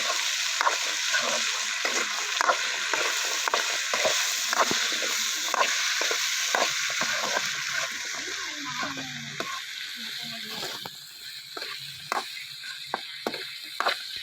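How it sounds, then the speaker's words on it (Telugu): Potatoes (aloo) fry in a pan for a curry, giving a steady close sizzle with intermittent clinks and scrapes of stirring throughout. "ఇప్పుడైతే మంచిగా ఫ్రై అయ్యింది ఆలు యాడ్ చేస్తున్నాను"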